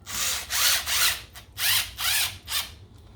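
A ratchet tightens bolts on a 2017 Yamaha Bolt motorcycle during throttle cable work, six quick close bursts of clicking in two groups of three, with short pauses between.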